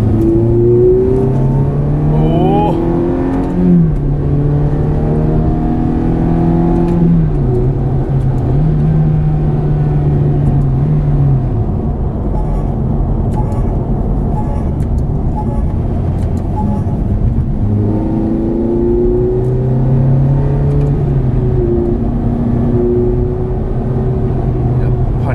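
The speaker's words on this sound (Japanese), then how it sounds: "感じのフェラーリサウンドがしますね。" Ferrari F430 engine revving with a harsh, loud note that rises and falls in pitch across several throttle blips, steady and close throughout, with some talk over it.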